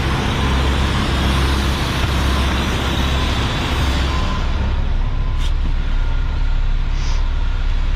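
A garbage truck engine runs at turned-down RPMs, a steady loud low rumble with broad noise that holds throughout and eases slightly toward the end.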